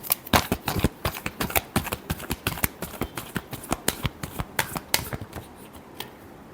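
Tarot cards are riffled in a quick, continuous burst of crisp flicking snaps, close and loud, tapering off near the end.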